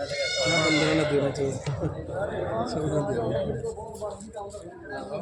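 A goat bleats loudly at a busy livestock market, crying out early and then again amid the chatter of men bargaining nearby.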